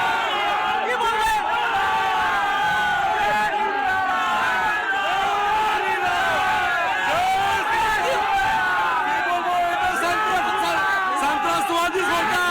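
Large crowd outside Alipore court chanting and shouting slogans, a dense continuous roar of many voices with whoops and cries, loud and sustained throughout.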